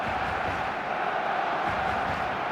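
Stadium crowd noise in the eFootball video game on match day: a steady, dense roar of many voices, even in level and continuous throughout with no single voice standing out.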